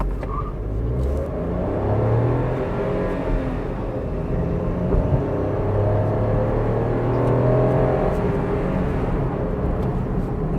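A 2024 Maruti Suzuki S-Presso AGS car accelerating hard from a launch, heard from inside: a steady, loud engine drone rising in pitch through the automated gearshifts, with road rumble and no talk.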